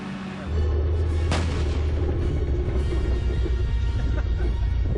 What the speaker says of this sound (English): This is the only place in the world you can fire a Sherman tank.